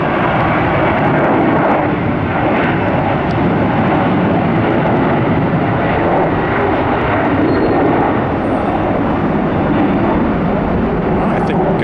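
A Boeing 737-900 jet airliner takes off at Tampa International Airport, its engines producing a loud, sustained roar that fills the whole stretch close by, with no pauses.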